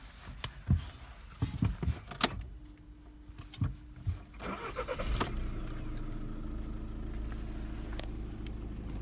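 A car door and interior clicks, then the engine of a VW Golf 1.6 TDI with DSG gearbox cranks and starts, settling into a steady idle with the air conditioning fan humming.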